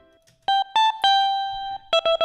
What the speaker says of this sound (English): I'm using a presence instrument, which if I turn off all the effects, it sounds like this.